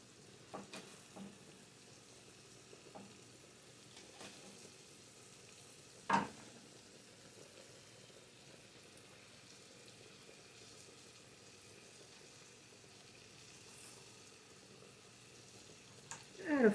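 Leeks and onions caramelize in a pan with a soft, quiet sizzle running throughout, broken by a few sharp clicks and knocks of a utensil against the pan.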